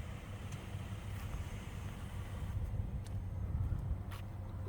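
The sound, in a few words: Nissan Murano engine running during test drive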